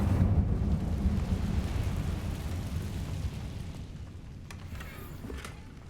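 A fire spell cast in the Hogwarts Legacy video game: a loud, sustained low roar and rumble that rolls on steadily, then slowly fades over several seconds, heard alone with no talk.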